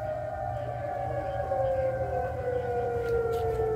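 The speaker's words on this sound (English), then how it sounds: "Like our siren, and now it goes off." Tornado sirens wailing during a severe thunderstorm warning, a steady droning tone slowly sliding downward in pitch, distant and moderately loud over a low background rumble.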